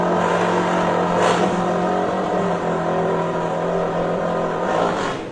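A KTM 500cc chain-drive motorcycle in an open-class drag race screams at high revs, with a continuous engine wail and brief surges as it passes close by.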